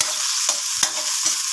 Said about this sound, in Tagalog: dito na ako magigisa ng sibuyas at bawang sa pinagprituhan ng ating chicken nuggets kanina